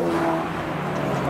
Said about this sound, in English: Suzuki is revving and waving.